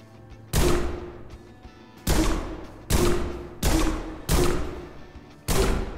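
Pistol shots fired in the Prison Simulator video game, six loud, sharp reports spaced unevenly about a second apart, each with a short ringing decay over a low background hum.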